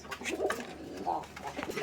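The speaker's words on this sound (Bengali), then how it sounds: "এটা একটা নর কবুতর তো এটা ডাকাডাকি করতেছে একাই" A lone male pigeon coos softly, a few low, throaty calls in quick succession, close and quiet, with no other voices.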